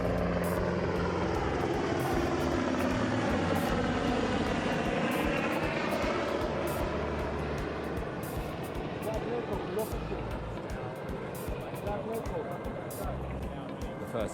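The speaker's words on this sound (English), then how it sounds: "I'm seeing one of the helicopters taking off and actually heading straight over us." A large Israeli military transport helicopter takes off in Gaza during a hostage release and passes overhead, its loud steady rotor drone sweeping through a rising and falling pitch over the whole stretch.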